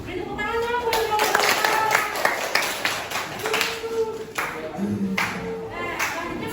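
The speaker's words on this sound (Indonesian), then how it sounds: "Beri tepuk tangan dong buat kelompok" A classroom gives a student group a round of applause, steady scattered clapping from many hands with voices and chatter mixed throughout.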